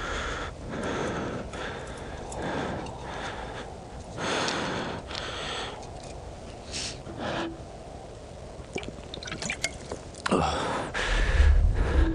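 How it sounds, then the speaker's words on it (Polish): The protagonist of the video game Resistance 3 breathes heavily in repeated gasps and snorting exhales, with strained groans between them, set against a background of game sounds and no speech. "Zgadza się każdy oddech, każde jęknięcie."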